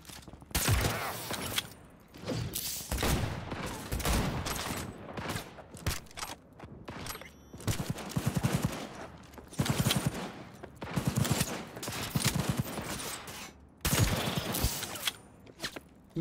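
Rifle shots in Cyberpunk 2077, a string of loud sharp cracks with booming tails, fired in irregular bursts across the whole stretch, with some mechanical clicks between shots.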